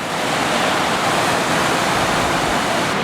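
A waterfall at the abandoned Oregon City Waterworks roars loud and constant from close by at its top, a dense unbroken rush of water with no voices.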